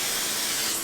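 Cooking spray sprayed onto plastic wrap, a single short, close, steady hiss from the aerosol can lasting under a second.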